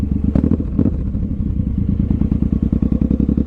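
A 2007 Suzuki M109R motorcycle ridden at night gives a loud, deep, continuous engine rumble with steady throbbing pulses and a few sharper thuds near the start, with no talking.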